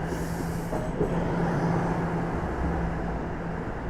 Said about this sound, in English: Is this train also gonna stop?